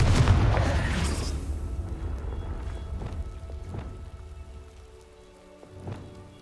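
A Confringo blasting curse in the Hogwarts Legacy game: a loud explosive burst at the start that decays into a long rumbling, crackling tail, with a few smaller thuds further on.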